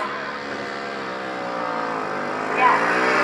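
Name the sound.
grasstrack racing motorcycles starting a race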